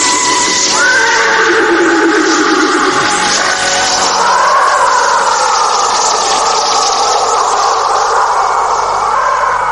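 A loud whinny from a fiery flying horse in a Javanese radio drama rises and falls in long drawn-out cries over a dense, roaring sound-effect bed, with no voices.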